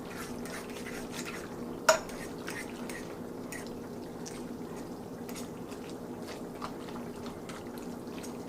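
A fork stirring saucy spaghetti in a pan, soft wet squelching and scraping with a sharp clink of metal on the pan, quiet and close.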